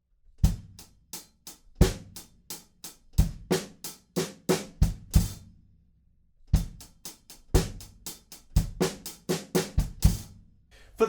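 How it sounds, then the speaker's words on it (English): Drum kit playing a groove with crisp snare and kick hits in a syncopated pattern, a brief pause, then the groove returns with a tiny fill worked in, close and dry with no talking. "at the end of the chorus, we have a tiny fill built into the groove that sounds like this."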